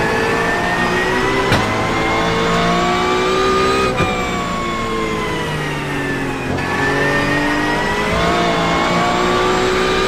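A GT3 race car at Mugello in the iRacing simulator, its engine droning loudly and continuously while pitch climbs through each gear and drops sharply at several shifts.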